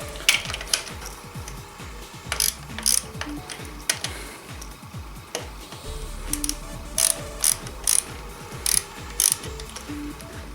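Camshaft holder bolts being tightened on a Suzuki RF 900 motorcycle engine during a GSXR camshaft installation: rapid ratchet clicks in repeated bursts, close and fairly loud, with short pauses between runs.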